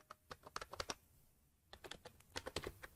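Code is typed on a computer keyboard in quick bursts of crisp, close key clicks, a short pause splitting two flurries of keystrokes, quiet and without talk.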